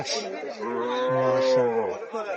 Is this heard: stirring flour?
no